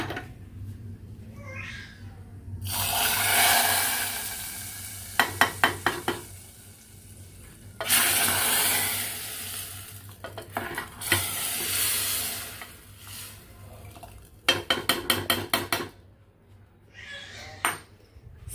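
Spices sizzle loudly in hot oil in bursts, with a spoon clattering rhythmically against the pan and a low steady hum beneath.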